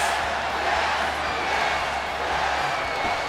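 Virtual arena crowd in a WWE 2K wrestling match chanting "yes" as a steady, dense roar that fills the whole stretch with no individual voices standing out.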